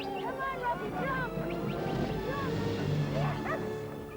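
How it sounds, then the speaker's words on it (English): A dog yips and barks amid chaotic disaster-film audio, with dramatic music and loud rumbling underneath and frantic voices shouting over it. "It's just a dog! It's a dog!"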